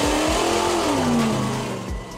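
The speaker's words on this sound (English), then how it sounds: "Off-road truck." An off-road truck engine revs hard, a loud, close roar with a climbing then falling whine that fades slightly toward the end.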